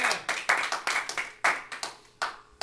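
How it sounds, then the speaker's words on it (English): Church congregation clapping hands during a Sunday morning worship service, a ragged series of about a dozen sharp, fairly close claps in uneven rhythm with no voices over them. "Oh, give the Lord a hand clap this morning that His Word will never change."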